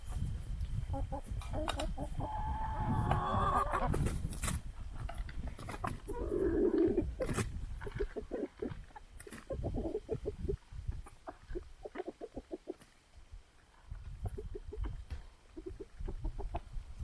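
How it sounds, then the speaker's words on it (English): Backyard chickens cluck and squawk close by as they peck at a halved pumpkin, with busy overlapping calls and people chatting among them. "We're gonna give the chickens half of this and see how they like pumpkin."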